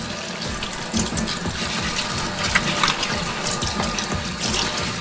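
Tap water runs steadily into a sink as chard leaves are rinsed under the stream, a continuous close gushing splash with no talk.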